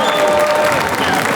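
Studio audience applauding a comedian on an Armenian comedy show, a dense, loud burst of clapping that fills the whole moment with a faint crowd murmur underneath.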